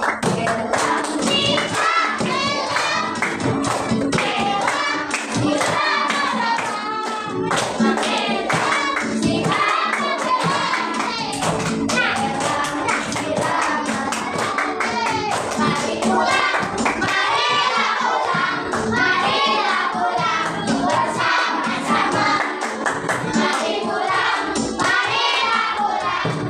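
A class of fifth-grade children sings the regional Indonesian song Si Paku Bilang together while clapping hands, a loud, continuous group chorus with rhythmic claps mixed in throughout.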